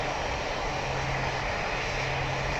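Steady, loud roar of a Boeing 737's jet engines idling on the runway before takeoff in the flight game PTFS, a continuous broadband whine with a low hum running unbroken throughout, no voices.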